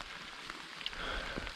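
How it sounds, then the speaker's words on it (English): Rain falls on a mountain trail as a soft, steady patter of drops, faint and close, with no talking. "It's raining."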